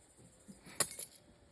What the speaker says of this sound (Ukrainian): О, ключі.